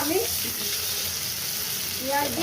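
Onions sizzle steadily in a hot pan of oil while making aloo googly, with a dense, close frying hiss running throughout and a few faint stirring scrapes.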